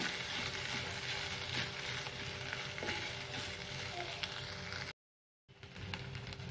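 Boiled potato pieces sautéing in a pan for a fasting potato curry, giving a steady sizzle and frying hiss with faint stirring and a brief silent gap near the end.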